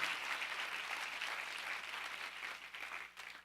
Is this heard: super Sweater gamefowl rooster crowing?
no